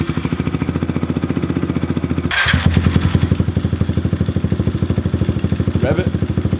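Kawasaki KLX 110 pit bike fitted with a Pro Circuit T6 exhaust idling about five feet away, a steady close putter with a short louder burst partway through and faint voices at the end.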